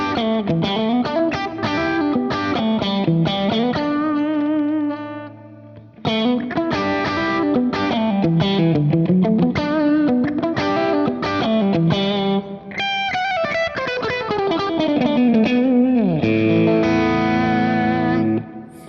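A James Tyler electric guitar, bridge and middle pickups in series, plays with effects and mild drive, bright strummed chords and riffs ringing out with chorus-like shimmer, two phrases separated by a short pause.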